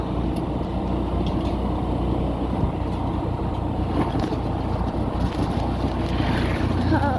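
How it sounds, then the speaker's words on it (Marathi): A vehicle passing along a rough rural road, its low engine rumble steady and close throughout, with wind buffeting the microphone. "हे बघा आहे गाडी जात आहे."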